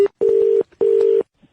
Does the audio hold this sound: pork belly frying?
no